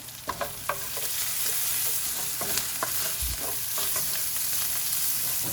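Garlic powder stirred into a sizzling pan with bacon, a steady close hiss under repeated scraping spoon strokes, no voices.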